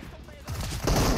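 Gunfire in the PUBG Mobile video game, a dense burst of rapid shots that swells in the second half of the clip, loud and close, mixed with some talk.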